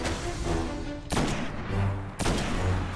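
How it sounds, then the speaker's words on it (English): Grenade blast and bursts of gunfire in the video game Destiny, with two loud broadband explosive hits about a second apart over continuous rattling shots, close and full. "Oh, that was a terrible grenade."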